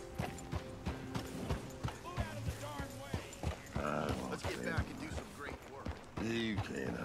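Horse hooves clopping in Red Dead Redemption 2, mixed with a dense layer of game sounds and a voice talking over much of it, with a possible faint whinny.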